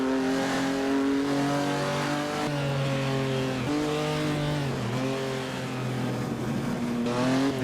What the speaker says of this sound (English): It really sounds like a race car.